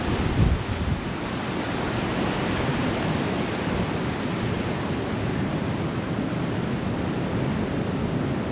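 Ocean waves and surf wash against the shore beside a battered abandoned building, a loud, constant roar of breaking water with wind, with no talking.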